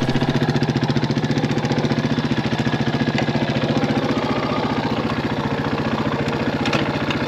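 RFX 250 enduro/supermoto motorcycle engine idling steadily up close, a loud, even single-cylinder throb with a rapid regular pulse and no voices.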